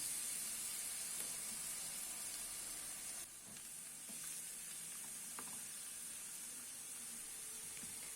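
Beef steak sizzles in an oiled grill pan on a gas stovetop, a steady close hiss of frying fat running throughout with small pops and crackles, no one talking.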